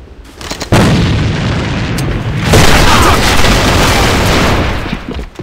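Grenade blasts in the online shooter A.V.A on the Dock map, a loud booming explosion that rumbles on, followed by a second heavy blast and a fading roar.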